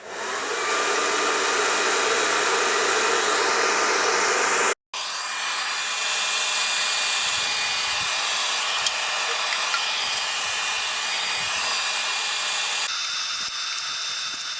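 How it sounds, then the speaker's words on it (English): A hair dryer blows hot air into a Land Rover chassis outrigger in a garage workshop, a loud steady roaring hiss that runs continuously, briefly cutting out once and changing tone slightly near the end. "Why have I got an hairdryer in the man cave?"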